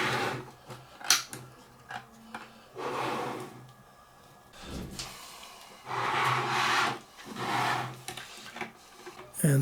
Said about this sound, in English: here I'm just putting in all the screws